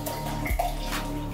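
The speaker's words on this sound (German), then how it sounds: "Ich habe Wasser an. Normales Leitungswasser." Ordinary tap water runs steadily into a Pringles can being used as a makeshift shisha base, a continuous close, splashy rushing stream with no talking.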